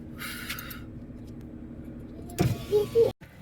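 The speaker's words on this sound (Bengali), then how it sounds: "এখন গাড়িতে উঠে পড়লাম, তাড়াতাড়ি করে যাবো।" Someone gets into a car, with rustling and movement followed by a loud close door thud near the end, then sudden quiet inside the cabin.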